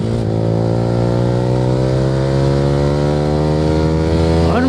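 A Yamaha R15 V3 motorcycle fitted with an Akrapovic R9 exhaust revs and accelerates, a loud, close engine note climbing steadily in pitch through the gears with no talk.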